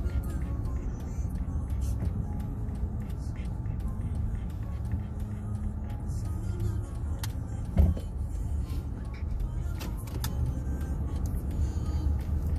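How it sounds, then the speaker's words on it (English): Steady road traffic at Lake Geneva, Wisconsin, with cars rumbling past continuously at close range and a brief louder knock partway through, with no voices heard. "Too many people, too many cars."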